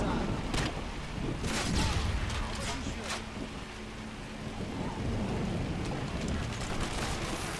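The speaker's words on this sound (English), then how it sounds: "Predator missile incoming." A Predator missile strike explodes in a first-person shooter, a rolling thunder-like boom of low rumble with crackling bursts that lasts throughout, loud and dense.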